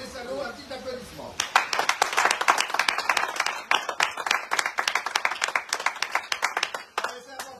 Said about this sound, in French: un petit applaudissement